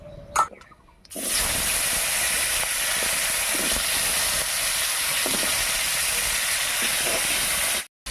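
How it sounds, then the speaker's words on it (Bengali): Cut potatoes drop into hot oil already holding cinnamon, cloves and cumin seeds for a Bengali potol dish, setting off a sudden loud sizzle after a quiet second that holds steady and strong to the end, with faint clinks beneath. "এবার এর মধ্যে দেব কেটে রাখা আলু"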